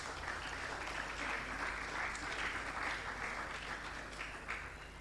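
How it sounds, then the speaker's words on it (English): An audience at a school maths quiz final applauds sponsors, a steady, dense round of clapping sustained throughout and easing slightly at the end. "Please, a round of applause for them again"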